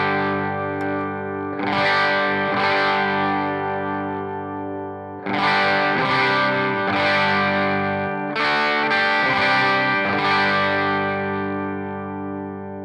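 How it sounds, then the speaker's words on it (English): Electric guitar played through a Pro Co Rat distortion pedal set for slight breakup, sustained chords and strummed phrases with a gritty edge ringing out close and steady, with brief pauses between passages. "now I'm going to mess with the distortion and filter to get just a very slight edge of breakup sound"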